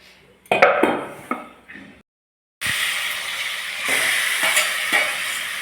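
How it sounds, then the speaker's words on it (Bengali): Chicken mixture sizzles in butter in a hot wok, starting with a few clinks and stirring knocks, a brief silence, then a loud, steady frying hiss close by. "চিকেনের মিশ্রণটাকে এখানে ছেড়ে দিল। প্রথমে কড়াইটাকে গরম করে নিয়েছিল একটু বাটার দিয়ে, তারপর চিকেনের মিশ্রণটাকে এর মধ্যে ছেড়ে দিলে এবার এটাকে ভাজতে হবে"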